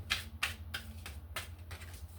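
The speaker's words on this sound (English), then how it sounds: "give it one more shuffle" A deck of cards being shuffled for a spirit animal reading, with several quick papery riffles and bursts spaced irregularly over a low steady hum, close and fairly quiet.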